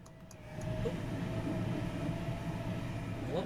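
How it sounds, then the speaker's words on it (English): A train in the railway building game Transport Fever 2 rumbles past near London Euston, a steady low rolling drone that swells in and holds, with faint clicks over it. "Here's our first train going south."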